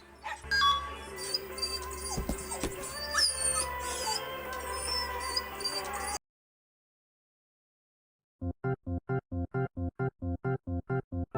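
In the Silent Hill 2 dog ending, whimpers and yips from the dog run under an eerie musical score, then after a brief silence comes a quick, regular run of identical short electronic blips.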